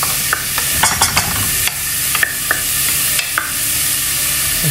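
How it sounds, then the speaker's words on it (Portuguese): Rice with olives and carrot sizzles steadily in a hot pan while a spoon scrapes and stirs it, with scattered sharp clinks against the metal. "Agora eu vou dar uma leve refogada junto com os ingredientes."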